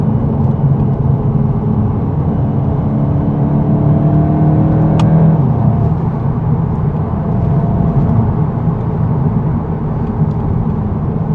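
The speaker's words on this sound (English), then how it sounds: "the exhaust is very muted" Engine and exhaust of a 2026 VW Golf 8.5 GTI heard from inside while driving, a steady, muted drone with road and tire noise and a mild rise in revs, no talking.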